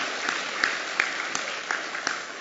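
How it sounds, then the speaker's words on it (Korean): Scattered applause from a church congregation during a Sunday morning worship service, light and thin with a few sharper claps standing out, moderately quiet. "그렇게 하시는 우리 하나님께 박수로 감사하겠습니다"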